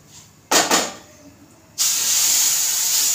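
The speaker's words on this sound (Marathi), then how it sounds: "तर मी याच्यामध्ये गरम पाणी घालते, आपलं चांगलं असं भाजलेलं आहे।" Hot water poured into a pan of ghee-roasted semolina for sweet sheera sets off a loud steam hiss: two quick bursts, then a sustained, strong sizzle that keeps going to the end.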